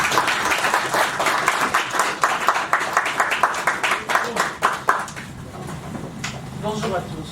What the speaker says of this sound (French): Sous vos applaudissements, applaudissez très fort Maman Bijou Isia.